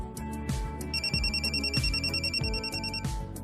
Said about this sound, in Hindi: ऐसे वक्त पर फोन कौन कर रहा है?